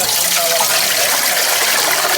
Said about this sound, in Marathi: हां थोडंसं पाणी ह्याच्यात टोपातच दी.